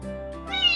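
A Singapura cat, a tiny short-haired breed native to Singapore, lets out a single short, close meow that rises in pitch toward the end, over a faint background hum.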